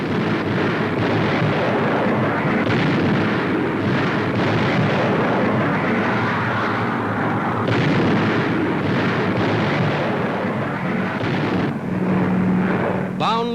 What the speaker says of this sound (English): 500-pound demolition bombs landing directly on the target